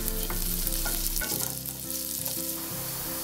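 Chopped ginger sizzles steadily in hot oil in a pan on the stove while making ginger chutney, a close, continuous frying crackle with faint stirring.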